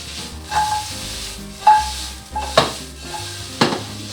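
Garlic and ginger sizzle in a hot stir-fry pan under a steady frying hiss, with several louder bursts as the food is tossed and stirred, and occasional light metal scrapes.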